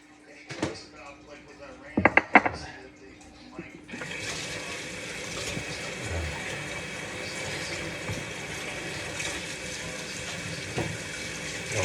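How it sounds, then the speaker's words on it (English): Hands washed under a running kitchen tap: a few clunks and splashes, then a steady, loud rush of water that continues to the end. "let me just wash my hands"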